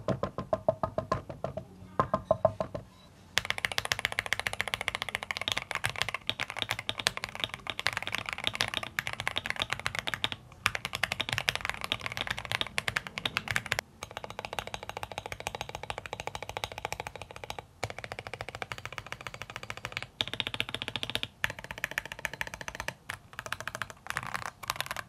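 Fast continuous typing on an Akko Mod007 keyboard fitted with Akko Jelly Black switches and thin foam, a dense poppy, clacky stream of keystrokes close up, with a few brief pauses.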